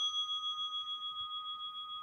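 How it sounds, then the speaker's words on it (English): A meditation bell rings out with a sustained, steady tone that holds several clear pitches and gently pulses as it slowly fades, heard alone and fairly quiet. "let the sound of that bell pull you deeper inside yourself"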